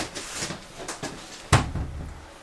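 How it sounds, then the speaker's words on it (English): The bathroom door inside a 2019 Crossroads Sunset Trail 289QB RV opens with soft handling clicks followed by one sharper knock of the latch or panel, close by in a quiet interior. "And then I'll just open up the door for the bathroom there."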